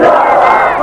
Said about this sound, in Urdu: ایک نعرہ تو سناؤ